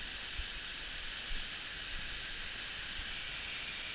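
A waterfall on the Glen Onoko hiking trail, a steady broad rushing hiss of falling water that holds constant and fairly distant, with a few faint low bumps underneath.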